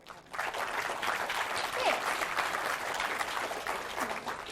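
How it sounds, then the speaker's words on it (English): Audience applause at a plenary session of a conference, a moderate, even spread of many hands clapping that starts abruptly and carries on steadily, somewhat distant in the room. "Round of applause for"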